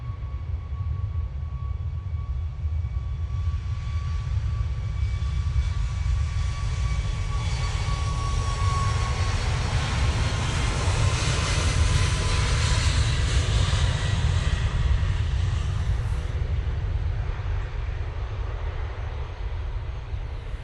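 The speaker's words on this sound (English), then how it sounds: "To Malta, there you go. What was that, 737 MAX 8?" A Boeing 737 MAX 8 bound for Malta flies past at Manchester Airport, its jet engines giving a sustained broadband roar that builds and fades gradually over about twenty seconds, heard alone.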